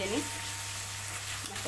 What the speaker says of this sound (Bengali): এবার দিয়ে দেবো আদা রসুন। আদা রসুনটা দিয়ে ভালো করে ভেজে নিই